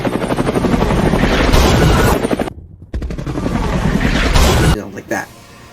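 Helicopter rotor chop in a Godzilla film scene, a loud sustained thrum layered with bursts like gunfire and impacts, cut off by a brief near-silent gap before resuming and fading out at the end.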